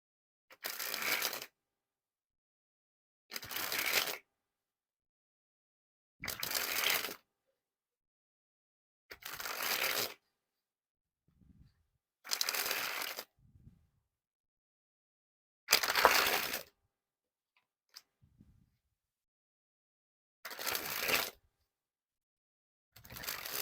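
Eight separate riffle bursts of a Bicycle Bone Riders deck being sprung from hand to hand, each crisp fluttering spray lasting about a second, spaced a few seconds apart with silence between and a couple of soft taps.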